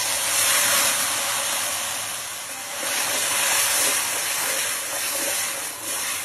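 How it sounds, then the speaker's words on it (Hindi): Tomato puree hitting a hot pan of masala-coated mushrooms gives a loud, steady sizzling hiss that swells and eases over several seconds, with no talking. "इसमें डालेंगे हम अब टमाटर प्यूरी"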